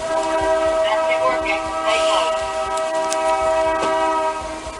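A video-game train rumbles past during a horseback jewel heist, its sustained horn-like tonal drone loud and steady with rolling mechanical noise underneath.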